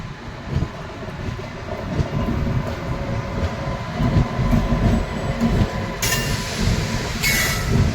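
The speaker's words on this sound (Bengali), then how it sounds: "সকাল 7:53 ট্রেন খড়গপুর জংশন এন্টার করছে।" Rupasi Bangla Express rolling into Kharagpur Junction in the morning, a loud, steady low rumble of wheels and carriages, with a hissing burst of noise near the end and no voices.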